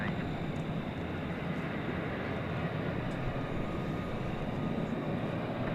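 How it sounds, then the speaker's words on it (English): Steady, broad jet roar from a Turkish Airlines 787-9 Dreamliner at DFW Airport, flight 192 to Istanbul, a continuous engine rush at moderate distance holding level throughout, with no clear voices. "So that's flight 192 going to Istanbul, a 7879 Dreamliner."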